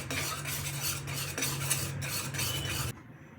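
Cheese being stirred into hot red pasta sauce in a pan, giving a steady broadband scraping and swishing with soft utensil clinks and no talk, stopping abruptly near the end.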